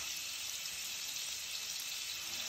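Paneer slices fry in butter in a pan, dusted with red Kashmiri chili and turmeric, giving a steady, close, hissing sizzle that holds constant with no voices.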